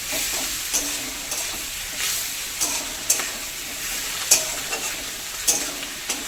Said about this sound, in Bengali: ভালো করে ভেজে নেবো আগে নাহলে না বেগুনটা আগে দিয়ে দিলে গলে যায়